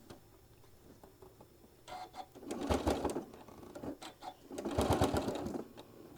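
A sewing machine stitches fabric for a small travel case for a mini iron, with two bursts of rapid mechanical whirring and clatter separated by brief pauses, loud and close.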